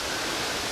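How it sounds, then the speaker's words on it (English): A creek flows close by, giving a brief burst of steady, broad rushing water noise with no other sounds or voices. "Right next to a creek here, so it's quite noisy"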